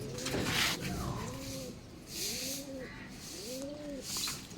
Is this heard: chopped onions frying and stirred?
no